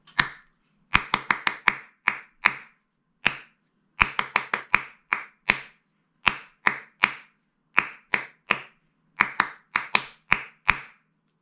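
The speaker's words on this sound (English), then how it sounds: "let's try and clap those first four bars together" Hands clap out the first four bars of a piece of music in a tutorial, with crisp, close, solo claps grouped in rhythmic phrases separated by short pauses.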